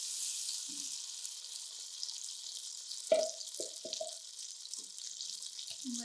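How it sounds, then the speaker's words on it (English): Tomato cooks in oil for an Afghani noodle soup over a high flame, giving off a faint, steady sizzle with a few short clatters of a spoon scraping the pan. "Cook this, guys, until the oil is out of tomato and tomato is ready."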